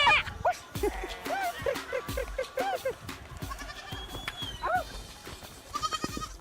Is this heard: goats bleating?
yes